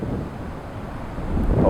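Wind buffets the microphone in low, rumbling gusts that swell slightly toward the end, with no voices, outdoors on a bear hunt in Montana.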